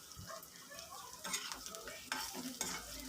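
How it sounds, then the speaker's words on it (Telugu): Green chillies fry and are stirred in a pan for a drumstick and ridge gourd curry, with a steady close sizzle and repeated scraping strokes of a spoon, and no talking. "ఇవి బాగా వేగేంత వరకు తిప్పుకోవాలి"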